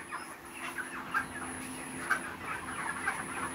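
Broiler chickens on a poultry farm cluck and chirp in a steady, busy murmur, with a few sharper calls standing out above the continuous flock noise at moderate distance.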